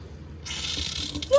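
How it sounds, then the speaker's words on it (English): Water starts flowing from a newly installed tap in a DIY campervan kitchen, a sudden steady hiss of running water after a moment of quiet, close and fairly soft. "I have water in my camper van."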